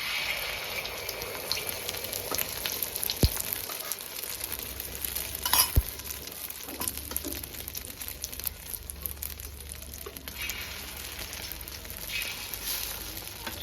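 An omelette fries on a home stove with a steady, close sizzle that runs the whole time, and a couple of sharp clicks or taps cut through near the middle.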